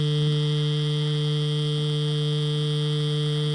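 Dragonhawk X8 wireless tattoo machine running at its top speed of 9000 RPM, a steady, continuous electric hum with a high whine, unbroken and even throughout.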